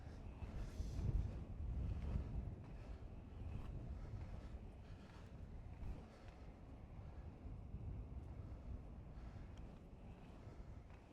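A headwind buffets the microphone of a rollerblader crossing a new bridge over the Bug river, a low, rumbling, gusty roar that stays fairly quiet and steady throughout.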